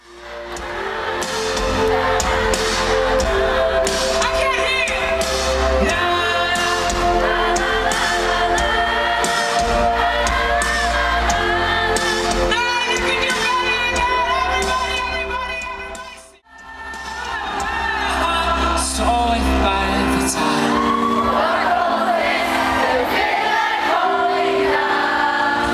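A Korean concert crowd sings along loudly and continuously with a live performance, the mass of voices blending with the band's music for the whole stretch, with a brief dip partway through before resuming.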